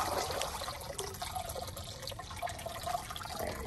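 Water splashes and trickles steadily out of a LEGO container ship lifted from a pool, a close, continuous gurgling pour with no talking.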